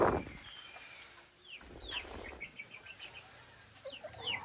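A laying hen clucks in a series of short, close calls on a windy farm, with soft wind rumble between them and no talk.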